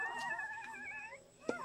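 Puppies whimper softly in a long, wavering whine that fades out, followed by a short sharp tap.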